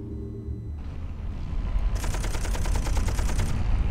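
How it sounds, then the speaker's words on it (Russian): A minigun machine gun in Planet Explorers opens up after a low rumble, a loud, sustained stream of rapid, evenly spaced shots lasting about a second and a half before cutting off, with a continuous heavy roar underneath. "ну, миниган такой стоит, да, пулемет, а звук такой, как будто, я не знаю, дешевого какого-то автоматика"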